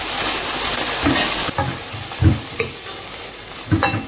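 A frying pan of food, green peas with chicken being reheated for lunch, sizzles steadily while a utensil stirs and scrapes it in a few distinct clattering strokes, close up with no talking.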